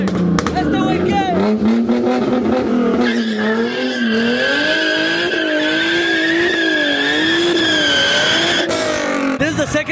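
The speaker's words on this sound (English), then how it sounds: "with the Mustang going wide in a small circle" At a wild car meet, a Mustang drifts wide in a small circle, its tires squealing loud and continuous with a wavering pitch as the engine revs, and shouting people can be heard underneath.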